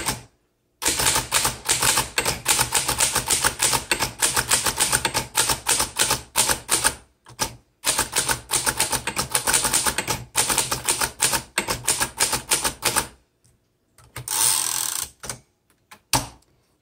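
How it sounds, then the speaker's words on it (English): A 1926 Underwood Four Bank typewriter types close and loud in steady runs of rapid key strikes. Short pauses break up the runs, and no one speaks. "This typewriter, it types very well"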